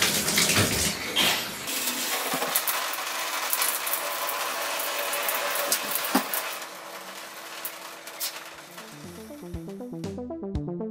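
Water runs steadily and loudly from a tap or shower while hair is wetted, a broad continuous splashing rush that ends with a short tonal musical flourish.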